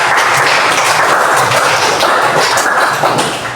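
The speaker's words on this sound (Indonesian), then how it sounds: "Tepuk tangan." Schoolchildren in a classroom clap together in a dense, loud, steady burst of applause that holds throughout.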